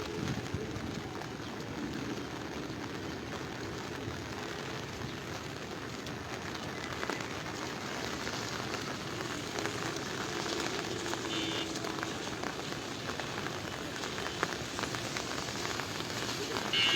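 Steady rain falls beside the flooded Gomati river in Cumilla, its water above the danger mark, a dense, even hiss that continues unchanged throughout.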